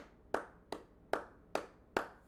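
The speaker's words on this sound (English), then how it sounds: "I just clapped. I clapped for him." Five sharp hand claps at an even, unhurried pace, each a crisp slap with a short decay, close and alone with no voices.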